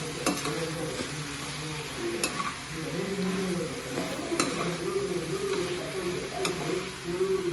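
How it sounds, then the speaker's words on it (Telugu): Sliced raw banana frying in a pan for aritikay fry, with turmeric being stirred in: a soft continuous sizzle under repeated spoon scrapes and occasional sharp taps against the pan. "పసుపు వేసుకుని బాగా కలుపుకోవాలి ఫ్రెండ్స్"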